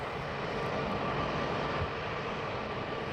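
Airplane engines at takeoff, a steady broadband roar and rush heard from inside the cabin, constant in level with no distinct changes, fairly quiet overall.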